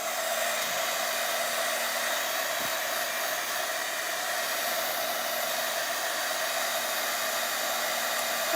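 A hair dryer drying a mask piece gives a constant, even whoosh and hum at close range for the whole stretch. The sound is steady and unbroken, with no voices over it.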